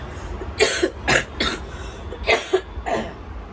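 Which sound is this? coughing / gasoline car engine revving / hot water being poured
coughing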